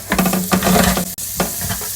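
Vegetables sizzle and crackle in a hot frying pan, with stirring scrapes and short bursts of louder frying, steady and close throughout.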